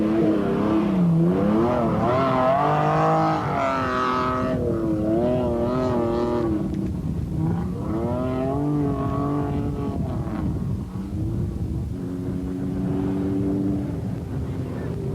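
Citroen ZX rally raid cars, near-standard with few modifications, labour through very soft sand on a 1994 Tunisia stage, engines revving and straining with shifting pitch throughout, partly under a commentator's voice.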